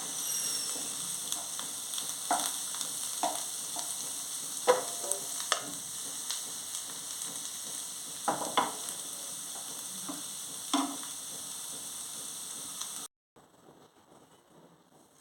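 Potato fry sizzles in a pan with coriander added, a steady close frying hiss with occasional stirring clinks and scrapes before cutting off near the end.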